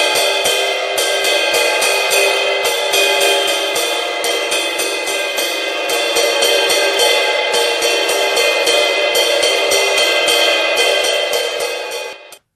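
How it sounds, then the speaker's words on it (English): Ride cymbal playing a slow five-note pattern, shimmering metallic pings struck in a steady, evenly spaced rhythm with a continuous bright wash ringing underneath, close and loud, fading at the end. "So if you do that on the ride cymbal at a slow tempo, that looks and sounds like this."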